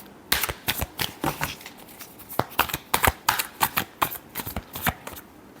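A deck of tarot cards is shuffled by hand in quick, papery riffles and flicks, a series of crisp bursts close to the listener with short pauses between them.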